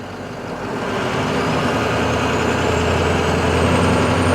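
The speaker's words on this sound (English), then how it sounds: "We will now do our air brake check." A truck engine idles steadily with a broad, rising rumble as air pressure builds for an air brake check on a CDL Class B vehicle, close and loud with no talking.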